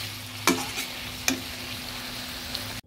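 Pumpkin and pointed gourd curry is stirred in a pan, giving a soft continuous sizzle with two distinct scraping knocks of the spoon against the pan, close up.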